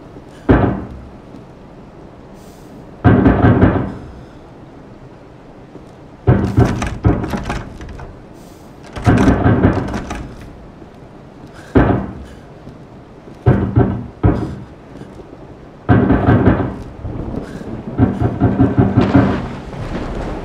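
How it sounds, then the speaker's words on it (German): Thunderstorm in Resident Evil 7: a series of loud, heavy rumbling bursts roll in one after another with short gaps between them, near and dominant, with no talking. "Ja, der Donner auch noch, na klar."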